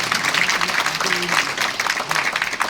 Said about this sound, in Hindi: ताली बजाओ एक बार सब मिलकर।